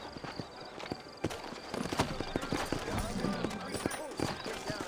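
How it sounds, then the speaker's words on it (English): Horse hooves clip-clop at a steady walking pace in the Red Dead Redemption video game, set in a frontier town, sounding close and distinct under ongoing character dialogue and light background ambience. "You ain't gonna find sturdier horses than these in all of New Albany."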